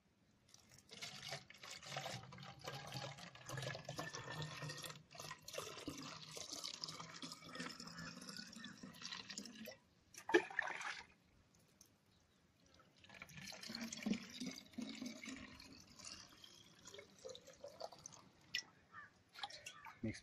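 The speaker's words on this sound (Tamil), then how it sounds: "இது ஒரு பக்கெட்டில் தண்ணி ஊற்றி தண்ணியை வந்து மிக்ஸ் பண்ணுறோம்" Water is poured into a bucket and stirred to make a neem seed insect-repellent spray, sloshing and trickling in long stretches with a brief splash and short pause midway, fairly faint and close.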